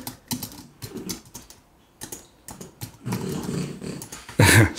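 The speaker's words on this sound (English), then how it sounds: "Sorry if you can hear my dog." A dog growling and making noise in a room beside a computer, short bursts broken by gaps, mixed with a clicking keyboard and ending in a louder yelp-like outburst.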